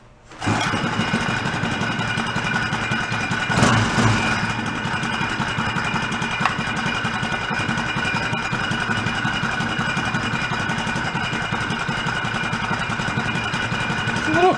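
A cheap small engine mounted on an antique pedal bike starts and settles into idle, a close, steady rapid putter with a slightly clanky mechanical edge that runs unbroken for the rest of the clip.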